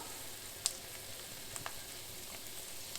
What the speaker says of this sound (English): we'll just leave this to saute and char